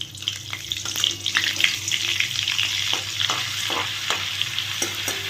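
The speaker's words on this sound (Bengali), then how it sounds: "এই তেলটা আমার খুব ভালোভাবে গরম হয়ে গেছে, বাটারটা আমি এর মধ্যে দিয়ে দিচ্ছি।" Butter drops into hot oil for a dal tarka, giving a steady close sizzle with crackling bursts and a few soft stirring clicks throughout.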